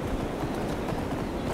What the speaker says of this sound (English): Challenging someone on a horse.